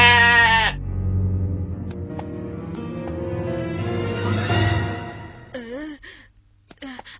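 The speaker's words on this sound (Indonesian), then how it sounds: "Rupanya kambing itu benar-benar tidak melihat Dodo" A goat bleats loudly and at length up close, with a wavering, quavering cry that trails off, then a few short squeaky calls follow near the end.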